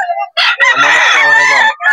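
Roosters crow loudly and close at a pet market, one drawn-out cock-a-doodle-doo following a shorter call, with a brief clipped crow at the end.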